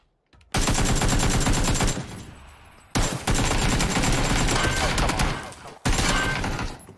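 Rapid gunfire in a video game shooter comes in three long, loud automatic bursts with brief breaks between them.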